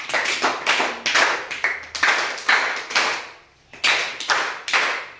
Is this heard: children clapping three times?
yes